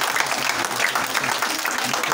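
Applause from an audience at a mentorship and leadership talk, a steady dense patter of many hands filling the whole stretch at a moderate, even level.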